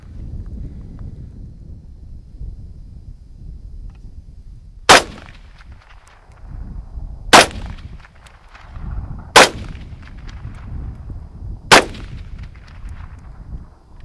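A rifle fires four loud, sharp shots with open sights at about 250 yards, spaced a few seconds apart, over low crosswind rumble outdoors. The rifles are a Ruger Mini 30 and an AK-47.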